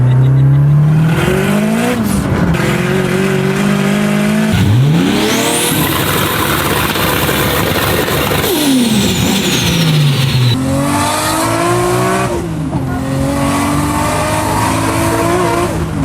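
A Pro Mod 88 car with a big turbo revs hard past on the street, engine climbing and dropping through several loud pulls with a rising whine, close and continuous, with a brief voice in the mix.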